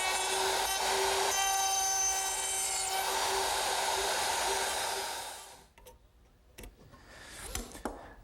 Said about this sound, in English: Now I'll change the bit in the router